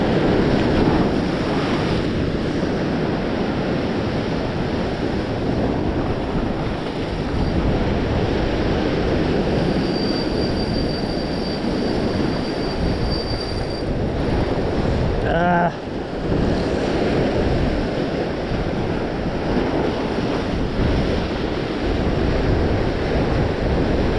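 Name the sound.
ocean waves surging onto rocks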